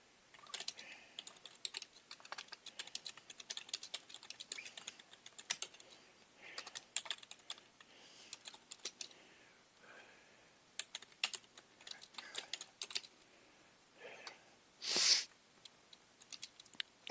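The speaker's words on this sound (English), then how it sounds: "I'm just typing something in the chat here." Typing on a computer keyboard, a near, quiet patter of rapid key clicks in uneven bursts with short pauses, continuing for the whole stretch with no talk and one sharp louder hiss near the end.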